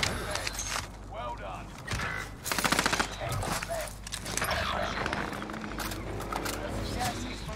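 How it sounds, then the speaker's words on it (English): Gunshots are fired into the air in a Call of Duty Warzone Rebirth match, as rapid bursts of automatic fire and single cracks mixed with game sounds under a faint, close voice. "Take a shot into the air."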